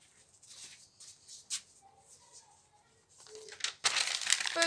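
Aged, dyed and dried paper is crumpled by hand in a few brief crinkling bursts, ending in a louder, sustained rustle up close with no talk.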